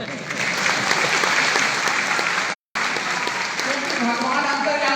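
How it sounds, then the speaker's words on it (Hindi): Large crowd clapping at a rally-style gathering in Banaras, dense and loud continuous applause that drops out briefly for a split second, then resumes just as strong. "ताली बजाइए।"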